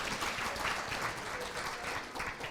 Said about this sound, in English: Let's give you a round of applause and thank you for what you do.